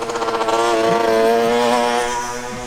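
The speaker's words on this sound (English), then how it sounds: "we call them fizzies for 50cc engines. Fizzies. He's got his fizzy there." A 50cc moped engine buzzes past at close range in Normandy, its high, steady whine holding loud before fading slightly as it moves away.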